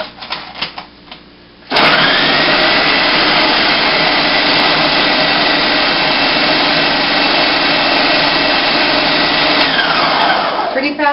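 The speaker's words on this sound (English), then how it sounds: "So food processor just until it forms a ball." A food processor blends soft, mushy raw sprouts for falafel: after a brief moment of handling noise, the motor kicks on and whirs loudly and steadily at close range for about nine seconds, then winds down.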